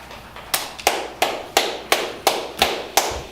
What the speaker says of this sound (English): Sir, can you please refrain from clapping in here?